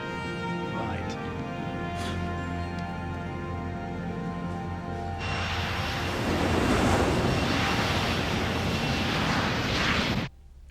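Avro Arrow jet engines running steadily for taxi trials, a loud sustained roar and whine that swells louder halfway through, then cuts off abruptly near the end.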